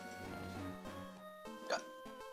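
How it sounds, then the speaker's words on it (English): A single sharp hiccup pops out over a steady hum of background game music, quiet and close. "I got the hiccups and I got them really bad right now."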